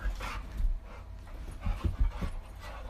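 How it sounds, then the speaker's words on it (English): Several loud dogs bark in short bursts in the background, a few sharp yaps clustered near the end, with panting or whimpering in between and no speech. "we hear the dogs in the background"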